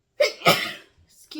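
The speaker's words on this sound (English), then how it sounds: "I'm trying to stop sneezing." A single sharp sneeze bursts out at close range, followed by a brief breathy pause and the start of a voice.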